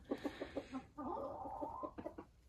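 A hen clucks in short repeated bursts, breaks into a drawn-out cackling call, then returns to quick clucks, fairly close with no talking.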